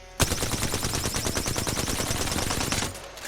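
Rapid automatic gunfire from a weapon in the video game Apex Legends, a loud, sustained burst of evenly spaced shots lasting nearly three seconds before cutting off.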